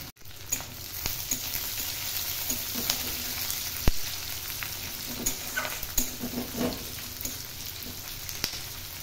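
Chopped onion and garlic sizzle in a pan for an Odia-style aloo methi sabzi, a steady close crackle broken by clattering stirring strokes and small sharp pops.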